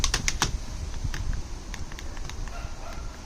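Keys clatter on the detachable keyboard of a Lenovo Chromebook Duet 2-in-1 10-inch tablet, a quick cluster of sharp clicks at the start, then sparser, softer taps over a low background rumble.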